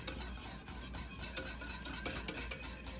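A spoon stirs cold milk in a pot for hot chocolate, giving a steady, close scraping and swishing that carries on through the whole stretch with no talk.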